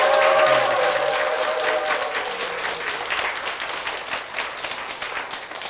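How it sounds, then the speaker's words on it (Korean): An audience in a Korean church claps for the congregation and its senior pastor, producing a steady wash of applause that starts strong and slowly fades over several seconds, with a faint voice underneath. "교회를 위해서 큰 박수 부탁드리겠습니다"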